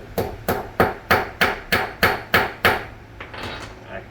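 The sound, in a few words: hammering a battery terminal flat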